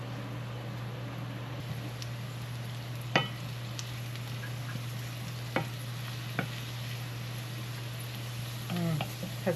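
Wild greens cook in a pan with a soft, steady sizzle and bubbling under a constant low hum, broken by a few sharp clicks of stirring.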